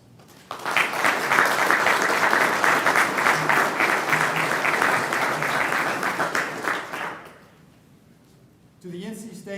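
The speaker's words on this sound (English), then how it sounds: "So let's give yourselves a round of applause." A seated crowd of family and friends at a 2021 Army commissioning ceremony applauds loudly and steadily for about seven seconds, then the clapping fades and a voice begins speaking.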